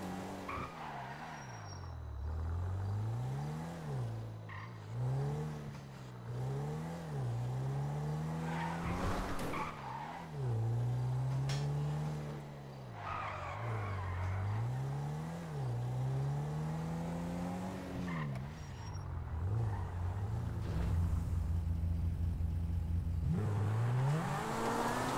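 A stolen BMW i8 hybrid car driven in GTA 5, its engine rising and falling through repeated revving sweeps with tire squeals and skids, loud and close throughout.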